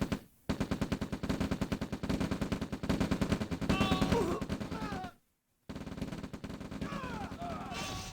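Rapid rifle fire from infantry in the real-time strategy game OpenRA Red Alert, dense rattling bursts running almost continuously, broken by a short silence, with high whining effects layered over the volleys.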